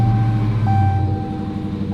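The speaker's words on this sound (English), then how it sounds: "All right, cold start." Hemi V8 car engine cold-starting, a loud steady low rumble with a sustained high whine running from start to finish, close by and without any talk.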